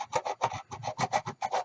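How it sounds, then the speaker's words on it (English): A file rasping over dried epoxy repair on Bakelite in quick back-and-forth strokes, about a dozen short scraping bursts in a steady rhythm, close and clear with no voices. "after it's totally dry, you can sand it with the file"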